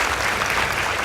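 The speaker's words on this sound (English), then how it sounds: "Please give them a round of applause" Audience at a school debate between Friends School Tigoi Girls and Chavakali Boys High School applauding the team, a dense, loud burst of many hands clapping, brief and close.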